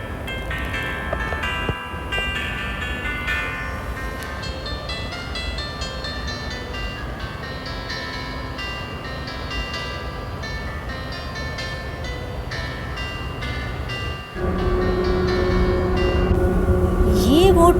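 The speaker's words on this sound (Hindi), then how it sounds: "ये वो ट्राम है कि जो आपको कैच करना पड़ती है टाइम से" An automated airport tram at Dubai Airport rolls along with a steady, loud rumble and a whine. Bright electronic chime tones sound over it, and the noise swells near the end.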